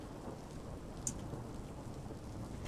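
Steady rain patters outside with a faint low rumble of thunder beneath it, constant and even throughout, with a small brief click near the middle and no voices.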